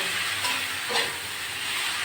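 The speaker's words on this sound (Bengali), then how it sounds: "আপনাদের খুলে নাড়াচাড়া করে দিচ্ছি" Pointed gourd (potol) and potato sizzle in a pan as they are stirred, a steady hiss with a couple of soft scrapes from the spatula.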